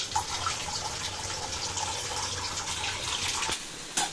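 Boiled bitter gourd is drained for a curry, with water pouring and splashing steadily and close by, ending in a few brief knocks.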